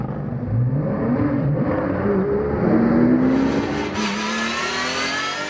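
A race car pulls away from the pits at a ROSCAR event at Val de Vienne, its engine revving loud and close, pitch climbing through gear changes as it accelerates off.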